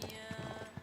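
Horse hooves clip-clop in the Uncharted 3 video game, a quick, faint run of soft rhythmic knocks over a steady background hum.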